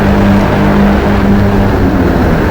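A Subaru Legacy Wagon on race tires accelerates hard around High Plains Raceway, its engine a loud, steady, droning roar heard from inside the car, with no speech.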